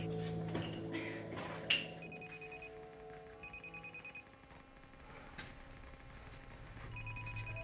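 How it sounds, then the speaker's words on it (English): A telephone rings repeatedly in a steady pattern of short electronic trills, fairly quiet against a dark, humming film score. "It's the phone!"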